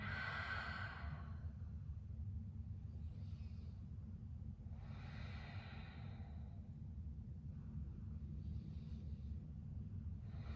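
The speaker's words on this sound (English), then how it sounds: "Taking full deep breaths here." Deep breathing during a standing yoga flow, with slow inhales and exhales heard close up over a low, steady background rumble.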